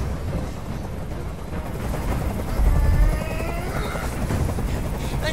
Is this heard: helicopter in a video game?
yes